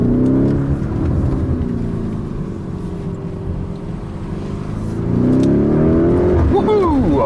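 A Lamborghini with a mountain bike on its roof cruises through urban streets, a steady loud engine drone and tire roar that swells toward the end as it accelerates.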